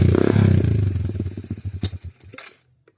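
A close, loud motorcycle engine revs hard, then the throttle is let go and the pulses slow and die away into quiet within about three seconds, with no voices.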